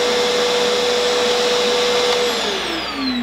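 A Milwaukee M18 FUEL backpack vacuum runs steadily on its higher-suction setting 2, a loud close whine with a constant hum that slides downward in pitch near the end as the motor winds down, with no talking.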